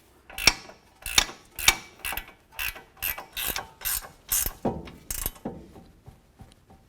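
A hand wrench ratchets an axle nut tight on a 2007-2014 Cadillac Escalade during a front CV axle replacement: a series of about a dozen sharp, close clicking strokes in a steady rhythm, alone with no talk.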